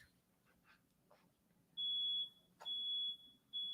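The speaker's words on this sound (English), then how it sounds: "you hear that alarm going off out there?" A smoke alarm going off nearby, sounding as a series of long piercing electronic beeps broken by short gaps, loud and steady over a quiet room with no talking.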